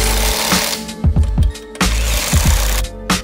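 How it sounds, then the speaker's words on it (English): Car wheel nuts being torqued down on a race car being prepped for a test day, heard as a run of sharp, close mechanical ratcheting bursts in quick clusters over a steady hum, with brief pauses between. "So torque them down."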